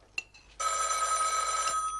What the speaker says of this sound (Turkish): bak şu telefonu